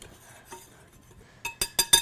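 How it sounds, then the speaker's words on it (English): Baking soda, salt and flour being whisked in a bowl for chocolate chip cookie dough: quiet stirring at first, then four quick, loud metallic clinks of the whisk against the bowl, close up, with no talking. "I'm going to whisk that around"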